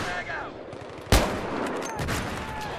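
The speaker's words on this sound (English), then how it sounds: "I think I'm being shot at." Gunfire in the multiplayer video game Battlefield 3, with one sharp, loud shot cracking out partway through and lighter rattling fire behind it, with no talking.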